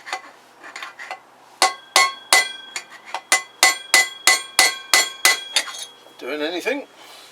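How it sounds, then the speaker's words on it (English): Hammer tapping a drift to knock out wheel bearings on a Kawasaki GPZ500S, a steady run of sharp metallic clinks roughly twice a second, close and loud, with a brief voice or squeak at the end. "I'm sure you just get a big drift and tap them out."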